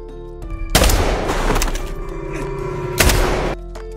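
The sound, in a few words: gunshots in an action film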